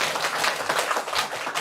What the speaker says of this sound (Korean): 우리 하나님께 감사와 영광의 박수 한번 올려드릴까요?